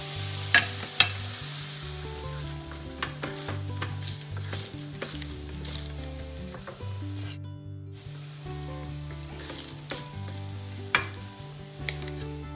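Mushrooms sautéing in a pan over moderate heat, a steady close sizzle with occasional stirring scrapes and clicks, music playing softly underneath.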